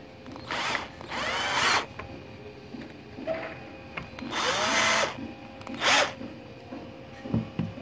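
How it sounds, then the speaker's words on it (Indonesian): Bolts being tightened on the torch of a 450-watt Multipro MIG welder, heard as several short, sharp whirring bursts with pauses between them, close by and fairly loud. "Ini kita kencangkan bautnya ya."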